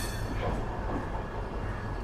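The Garib Rath SF Express rolls along between Yesvantpur and Secunderabad, a steady rumbling roar of wheels and carriages heard from inside, continuous with no voices.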